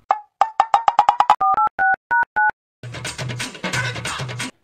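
Telephone tones during a call that keeps going unanswered, a quick run of short beeps followed by steadier paired tones, then a burst of noisy sound, loud and close with no talking.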